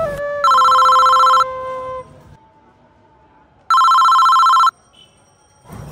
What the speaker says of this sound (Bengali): অসময় বাসা থেকে ফোন।